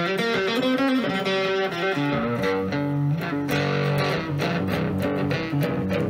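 A heavily distorted three-string cigar box guitar through a Boss DS1 distortion pedal plays a continuous riff of chords and notes, loud and saturated throughout, with no voices.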